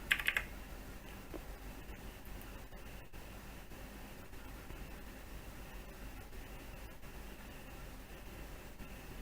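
Keys tap at a steady, quiet pace on a computer keyboard as a password is entered, close up over a faint hiss of background noise, with a louder cluster of clicks at the start.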